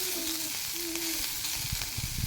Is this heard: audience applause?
no